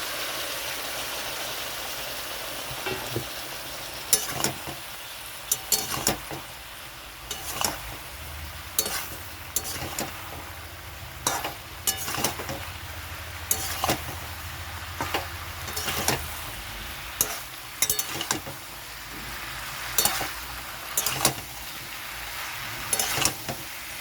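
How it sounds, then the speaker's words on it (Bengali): Green banana curry with fried prawns simmering in a pot as hot water is added, a steady bubbling sizzle under repeated sharp clinks and scrapes of a spoon stirring against the pan, with no voices. "এখানে একটু গরম জল দিয়ে দিচ্ছি। ভেজে রাখা চিংড়ি মাছটা দিয়ে দিচ্ছি।"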